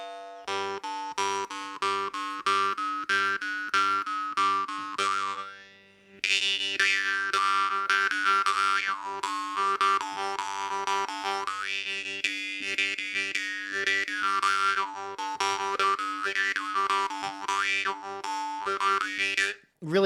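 A khomus jaw harp tuned to G2 is plucked in a rhythmic, twanging pattern, its resonant drone shifting in overtone pitch like a vowel-shaping whine, with a short pause midway and occasional slight clicking.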